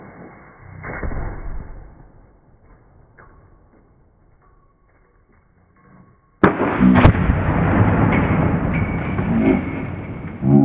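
A slingshot-launched RPG-style projectile smashes into a watermelon in slow motion, a sudden loud burst after several seconds of quiet, followed by a sustained dense roar and debris noise that stays loud to the end.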